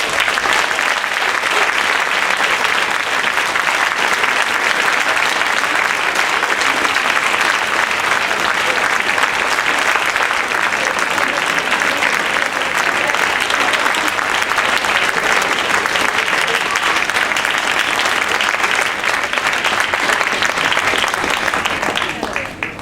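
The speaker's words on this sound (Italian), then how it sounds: "Allora accogliamo con un grande applauso la banda giovanile di Vergnacco" Crowd applause welcomes a youth wind band to the stage, loud dense clapping sustained for over twenty seconds with cheering voices mixed in, cutting off sharply at the end.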